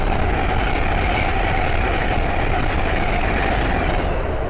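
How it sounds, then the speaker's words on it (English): An LNER Azuma Class 801 train heading north on the East Coast Main Line at Great Wymondley, running from London King's Cross to Edinburgh Waverley, passes close by as a loud, steady, broadband rumble and rush of wheels that holds throughout. "The Azuma going north is London King's Cross to Edinburgh Waverley"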